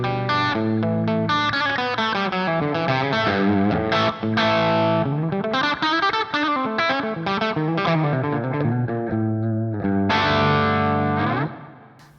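Electric guitar played through a slight overdrive effect pedal, a continuous run of mildly gritty chords and notes with a chorus-like shimmer, close and steady for about twelve seconds before ringing out at the end.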